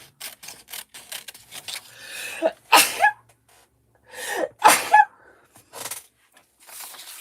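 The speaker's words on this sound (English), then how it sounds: "I can feel the sneeze coming" Two loud, close-up sneezes, each preceded by a sharp gasping inhale and spaced about two seconds apart, with soft breaths and light rustling around them during a quiet indoor crafting session.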